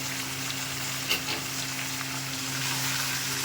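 Chicken masala with tomato, garlic, chilli, ginger, cumin and coriander sizzling in a pan, a dense continuous hiss with a few stirring scrapes, close and steady, no voices.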